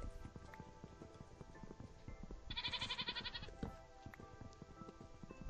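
A goat in the video game Minecraft gives one short, wavering bleat at mid-distance over a steady pattering of in-game footsteps and background game sounds.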